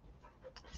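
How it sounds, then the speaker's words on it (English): A dog panting softly in the background, quick rhythmic breaths at low level in a quiet room. "If you can hear a noise in the background, it's Lacey Dog."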